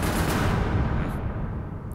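Gunfire: a dense, loud burst of continuous shots and rumbling blasts filling the whole moment, with no voices.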